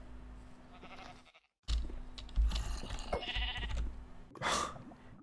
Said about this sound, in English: I'm just gonna kill these 3 sheep and I'm done.